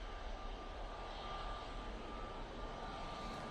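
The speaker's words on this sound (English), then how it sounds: "Sounds like that flight to Malta, Mike, has started up again" Airliner engines spooling up at Manchester Airport, a broad steady roar with a faint whine, heard from a distance and constant throughout.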